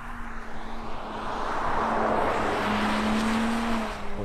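Audi S4 cars driving on a frozen lake in central Norway, heard as a steady engine roar with a droning tone that swells and holds, fairly loud and continuous with no talk.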